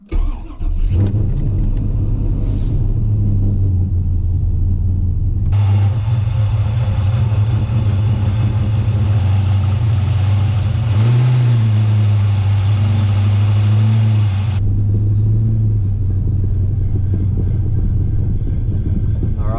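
A Holden VN car on its first drive, engine loud and close, idling then revving and pulling away in a steady drone with a brief rise mid-way, alone without talk.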